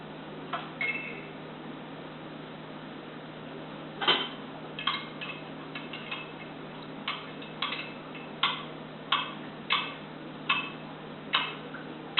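A spoon clinks against a bowl as honey is mixed into an orange wine sauce for flounder and apples, a series of light, fairly regular taps with quiet gaps between them.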